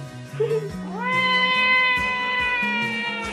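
A pet cat meows close by in a long, drawn-out call that rises and holds, with a person talking quietly beside it.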